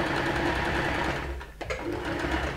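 Sewing machine running steadily as it stitches a long basting stitch along a raglan sleeve for a puffed-sleeve dress, close and continuous with a brief pause midway.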